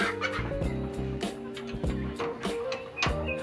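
Turkeys clucking and gobbling close by on a rooftop farm, repeated throaty calls in quick bursts over a busy background.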